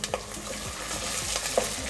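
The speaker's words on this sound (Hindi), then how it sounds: "टमाटरों को भी मैंने 2 मिनट तक भूना है।" Chopped tomatoes fry with onion, garlic and ginger in a pan for mash dal, giving a steady close sizzle broken by a few scraping stirs, with no talking.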